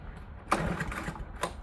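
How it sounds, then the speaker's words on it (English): A lawn mower engine out in the rain turns over in two short, rough bursts, sputtering briefly before dying away, with nothing steady in between. "it's turning on like it's starting, but that is dying after it had that loud thing, and then it just dies"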